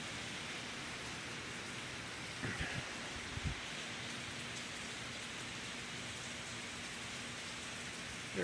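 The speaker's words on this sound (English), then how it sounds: "Don't know how I can see the rain right there, but it's coming down hard." Heavy rain pours down steadily during Hurricane Michael in the early morning, with strong winds; a dense, even wash of sound stays loud throughout, with a couple of brief knocks partway through.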